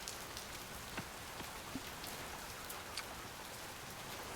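Steady rain falls in the video game Oceaneers, a quiet continuous hiss with a few scattered drop taps, no voices.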